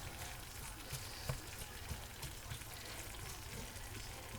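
Vegetables with canned corned beef and cabbage cook in a pot, giving a faint, low, steady frying hiss with scattered soft pops and crackles, quiet and unaccompanied by speech.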